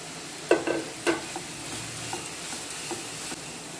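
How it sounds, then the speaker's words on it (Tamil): Grated carrots sizzle and fry in ghee for carrot halwa, with a couple of louder stirring scrapes near the start and a low, steady hiss of frying that continues underneath. "இனி இந்த நெய்யிலே கேரட் எல்லாம் போட்டு வறுத்து எடுத்துக்கலாம்."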